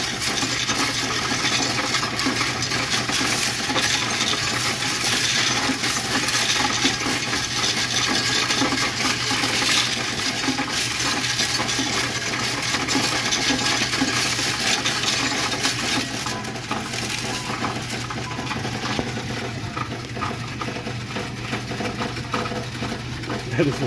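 Piles of pennies emptied from piggy banks pour steadily through a Coinstar coin-counting machine, a continuous dense clatter and rattle of coins over the machine's mechanical hum, lasting the whole stretch.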